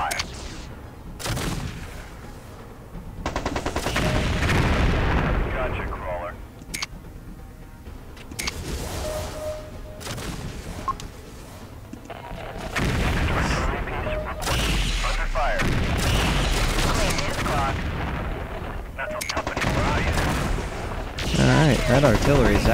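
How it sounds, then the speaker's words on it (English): Artillery shells hit in the MechCommander 2 video game: scattered booms and gunfire-like volleys recur throughout, fairly quiet in the mix, with a voice talking over them. "That artillery is actually really powerful. It's making these guys stagger every time it hits."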